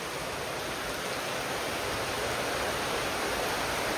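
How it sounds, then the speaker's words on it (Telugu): Heavy night rain pours down steadily in a dense, unbroken hiss, loud and close, with no pauses or voices. "వర్షం అయితే బీభత్సంగా పడుతుంది."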